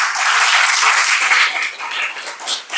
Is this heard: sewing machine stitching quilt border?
no